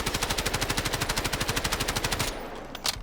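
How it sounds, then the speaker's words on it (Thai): Rapid automatic gunfire from a rifle in the video game Delta Force, a steady controlled burst of about thirty evenly spaced shots over two seconds, loud and close, ending abruptly with a faint click after. "ผมจะลองยิงให้ดูนะเอาแบบคอนโทรลนะ"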